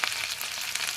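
Chopped tomato frying in hot oil with asafoetida in a Gujarati dal dhokli tempering, a close, steady crackling sizzle with small pops and no talk.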